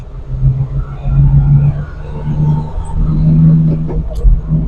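A Daihatsu DA63 4WD kei truck drives slowly at low speed, its engine giving a steady close, loud low rumble with mild revving swells. Someone talks over the engine.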